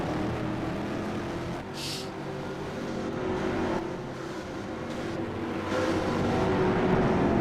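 Race cars in a racing video game on a Swedish Grand Prix track, a dense, turned-down engine drone with cars whooshing past, steady and moderately faint throughout.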